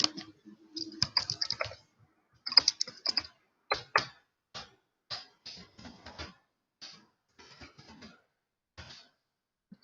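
Typing on a computer keyboard indoors: irregular bursts of close, crisp key clicks with short pauses between groups, alone without talk.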